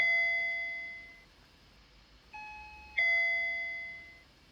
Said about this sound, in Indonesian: Kok ada yang bel?